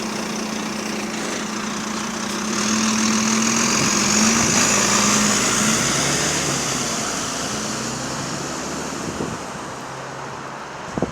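A diesel bus engine idling nearby with a steady low rumble and rough clattering shudder, swelling slightly in the middle, under faint outdoor wind and road noise.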